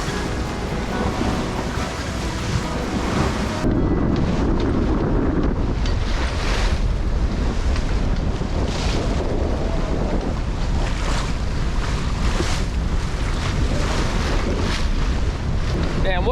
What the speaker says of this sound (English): Fucking water bashing over the front of the boat.